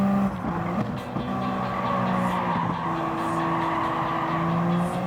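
Race car in Gran Turismo 7 droning steadily with a thin, buzzy lawnmower-like engine tone, loud and continuous, with pitch rising and shifting through gears and faint tire noise underneath.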